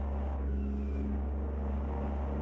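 Kenworth T800 truck engine in American Truck Simulator, a loud, steady low diesel drone that holds without a break while hauling a bulldozer.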